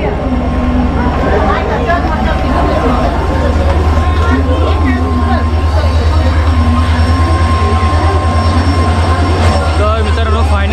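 The Mandovi Express from Khed pulls into Dadar station in Mumbai: a loud, continuous rail rumble with a low steady drone and rattling, while voices murmur underneath.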